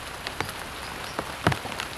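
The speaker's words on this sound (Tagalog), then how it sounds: "humihina yung ulan o tumitila yung ulan" Light rain patters on a surface in a soft, steady hiss, with scattered louder drops as the shower eases off.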